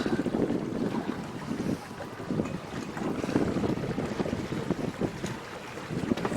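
A 2013 SeaFox 226 Pro Series center console boat runs over open water, its steady engine rumble mixed with constant wind buffeting and splashing hull slap, loud and close throughout with no talk.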